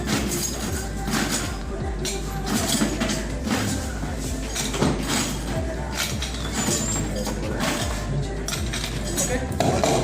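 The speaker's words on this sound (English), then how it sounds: "and then add some ice cubes." Ice cubes clink and rattle into a mojito glass at a bar, a busy run of glassy knocks and chinks, with a person talking over them.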